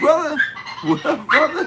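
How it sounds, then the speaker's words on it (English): A dog yips and whimpers in short, high, whining bursts close to the microphone, overlapping with a voice talking over it. "That's my dog"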